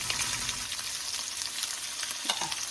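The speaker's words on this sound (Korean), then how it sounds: "이게 고기하고 같이 얹기 위해서 야채를 지금 볶고 있습니다." Onion and vegetables stir-frying in a pan for a home-cooked Mongolian beef and shrimp dish, giving a steady, dense sizzle with soft scraping stirs throughout and no talking.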